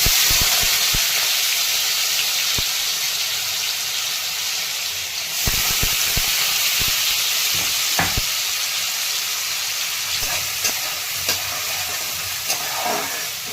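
Onion sautéing in oil with plenty of cumin seeds for spinach khichdi, a steady close sizzle and hiss throughout, with occasional scrapes and taps of a spoon stirring the pan.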